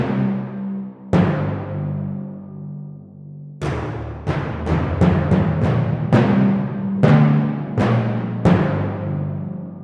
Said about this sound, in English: Timpani ensemble. I think they recorded 3 timpani players at once.